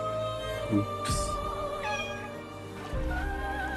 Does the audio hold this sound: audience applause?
no